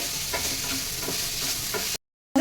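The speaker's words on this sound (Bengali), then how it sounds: "এবার আমি মিশিয়ে নেবো আমি দু মিনিট মতন ভেজে নেবো" Cabbage momo filling is stir-fried in a pan, giving a steady close sizzle with soft scraping strokes of stirring. The sound cuts out briefly near the end, then returns.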